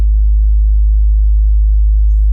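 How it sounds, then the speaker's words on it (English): A Serum preset sub bass plays a pure, sine-like synth tone, a deep steady hum held evenly at constant loudness with nothing else layered over it. "So this is another Serum preset, but it's just a sub bass"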